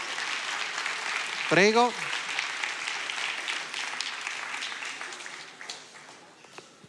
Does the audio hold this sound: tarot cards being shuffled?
no